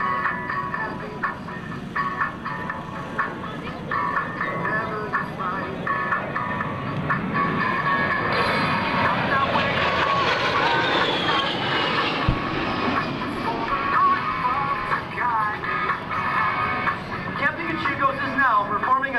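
An A-10 Thunderbolt II jet repositioning during an air show demonstration, its broad engine roar steady throughout and swelling louder midway as it passes, with a voice talking over it.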